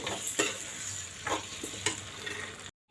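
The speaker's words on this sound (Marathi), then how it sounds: "वांगे मी टाकून दिले त्याला मस्तपैकी आता सगळ्या मसाल्यामध्ये मिक्स करून घेऊ" Brinjal pieces stirred through masala in a hot pan, a steady sizzle with several scraping strokes of a spoon, close and alone, cutting off near the end.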